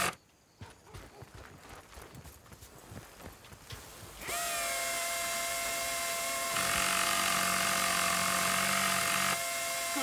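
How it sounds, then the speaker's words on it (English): A power tool repairing a vehicle in Battlefield: Bad Company on Xbox 360: scattered clanks and taps give way to a loud, sustained whirring drone with a steady tonal whine that rises in intensity partway and then cuts back. "That's the power tool you've got there. Hold on to it. You can use it to fix any broken vehicle."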